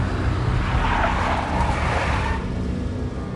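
A big black Mercedes skids in the Max Payne video game, a dense broadband rush of tire squeal and engine noise that holds steady and loud for a few seconds, then eases slightly.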